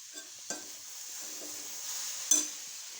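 A pot of Attukkal Paya, goat trotter stew salted and left to boil, gives off a soft steady sizzling bubble, broken by a few light clinks of a utensil against the pot.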